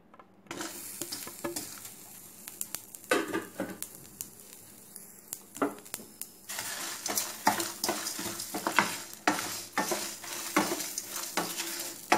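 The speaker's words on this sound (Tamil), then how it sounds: "தீயாமல் நல்லா வறுத்து எடுத்துக்கோங்க," Grated coconut and spices dry-fry in a pan for hotel-style sambar, a close, steady crackling sizzle punctuated by repeated scraping stir strokes that grow busier and louder toward the end.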